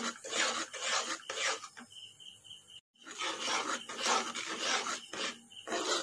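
A spoon scrapes and rubs steadily through a thick milk powder mixture in a pan for a Tamil apple milk sweet, in repeated rasping strokes close by, with a brief pause midway and no talking.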